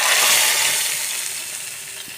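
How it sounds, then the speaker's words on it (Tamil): Spices tempering in hot oil for chayote sambar give off a steady, loud, close hiss, slowly fading over a couple of seconds with no talk. "தாளிப்பு."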